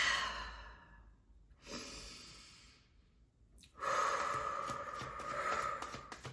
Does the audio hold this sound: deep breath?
yes